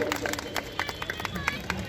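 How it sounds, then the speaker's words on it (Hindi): Audience clapping for a freedom fighter at a Republic Day celebration in India, a brief burst of scattered claps over crowd murmur. "एक बार जोरदार तालियां हमारे स्वतंत्रता संग्राम सेनानी के"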